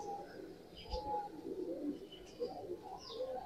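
Soft, low cooing from blue Kamagar and Kasni pigeons in a loft setup repeats in gentle bursts, with faint chirps above and a quiet background.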